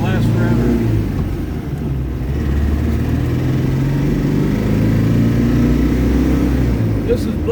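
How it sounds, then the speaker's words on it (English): A 1972 Porsche 914 accelerates hard, its engine giving a steady, loud low drone that stays continuous for the whole stretch with no other sounds on top. "This is blinding acceleration on a Porsche 914."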